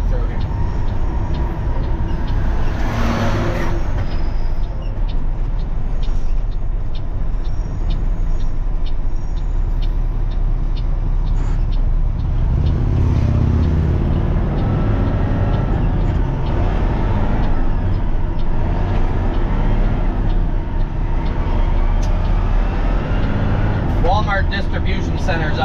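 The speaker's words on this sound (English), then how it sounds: "A lot of truck traffic through here." Trucks pass along a road near distribution centers, a continuous low rumble of heavy traffic with a hiss of air brakes at one point, under someone talking throughout.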